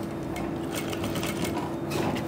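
A sewing machine runs continuously, stitching the side seam of a kurti with a rapid, even mechanical chatter, close and fairly loud, with no talking.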